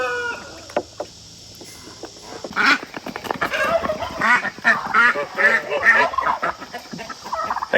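Farmyard ducks and geese give a rapid run of loud, close quacks and honks after a quieter opening with a few scattered knocks.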